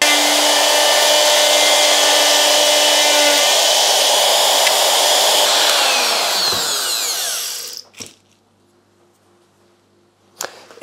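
A wood router cuts a cavity into a Telecaster guitar body, a loud steady high whine with cutting noise that winds down and stops near the end, followed by a couple of sharp knocks.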